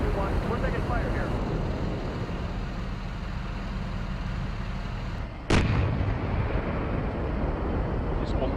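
Tank cannon fire in the Steel Beasts tank combat game during a Leopard 2A4 company town defense, one sharp loud blast cutting through a constant heavy engine rumble, with no talk over it.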